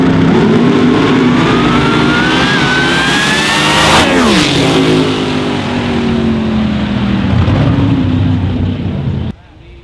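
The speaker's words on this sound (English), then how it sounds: "the funny car, it's just cool" A drag racing funny car engine roars loudly and continuously, pitch climbing and then sweeping sharply around the middle before settling into a heavy, rough drone that cuts off abruptly near the end, with a voice faintly underneath.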